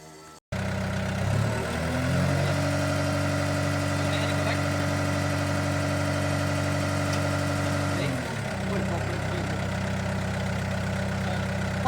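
The engine of a piece of heavy equipment idles with a steady, loud low rumble and hum. The pitch dips briefly near the end, then settles back.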